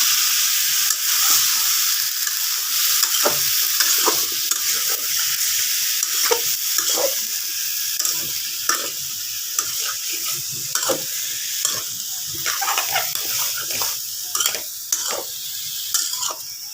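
Beef tripe curry with pumpkin and potatoes being stirred and fried in a pan: a steady bright sizzle beneath repeated scraping, clicking spoon strokes against the pan, close up with no talking.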